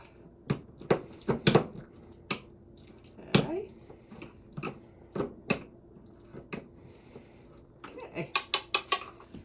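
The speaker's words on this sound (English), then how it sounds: "So you just use your standard masher. You can use a fork too." Wet squishing and clinking of a standard masher mashing bananas in a bowl for oat breakfast cookies; irregular close taps and squelches, some in quick clusters, fairly quiet.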